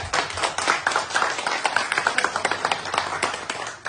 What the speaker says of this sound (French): Famille, applaudissez pour lui.